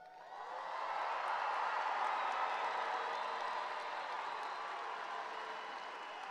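At the Arbor View High School Class of 2025 graduation, a crowd breaks into cheering and clapping that swells within a second and holds as a broad, sustained roar heard from a distance.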